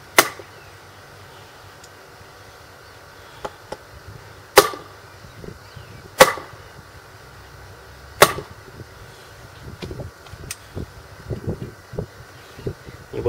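A Ganzo G704 folding knife with slight vertical blade play gives a series of sharp, loud clicks and rattles at irregular intervals, with softer tapping and handling noise in between.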